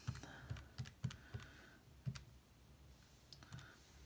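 Calculator keys pressed one after another, about ten quiet plastic taps in an uneven rhythm while entering a currency conversion figure, close and alone with no talk.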